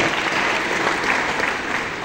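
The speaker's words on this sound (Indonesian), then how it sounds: "Tepuk tangan untuk Pak." An audience applauds at an Indonesian forum and open-mic gathering at APMD, a continuous, close crowd clapping that stays steady and loud throughout.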